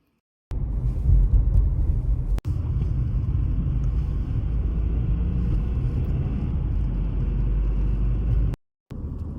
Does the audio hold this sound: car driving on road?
yes